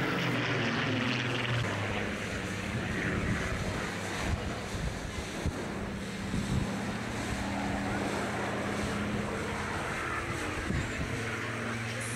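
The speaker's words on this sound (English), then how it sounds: "Spitfire still looks just as gracious in the air." A Spitfire propeller aircraft flies over the crowd at an Armed Forces Day display on Plymouth Hoe, its droning engine steady under wind and seaside surf noise.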